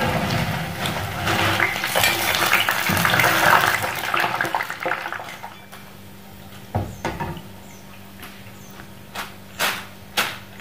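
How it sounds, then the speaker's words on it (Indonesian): Cassava lentok snacks frying in hot oil give a dense, loud sizzling hiss that gradually dies down, followed by a few sharp knocks and clatters of utensils, with no talking. "ini lentoknya sudah saya goreng semuanya"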